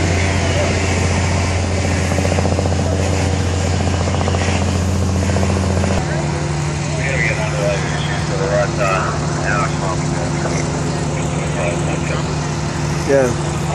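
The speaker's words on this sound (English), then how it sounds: "You see a helicopter, yeah." A helicopter flies over a neighbourhood where a house fire is burning, its steady low rotor drone continuous throughout, with a dog and other background sounds mixed in and people talking nearby.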